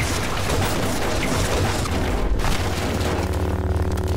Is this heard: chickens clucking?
no